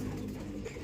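Racing pigeons back at the loft give soft, low cooing in a brief murmur, close by and fairly quiet.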